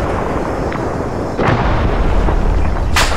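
In the Arma 3 video game, a rocket launches and then explodes, heard as a dull blast followed by a deep booming rumble and a late sharp burst, loud and close with no talk.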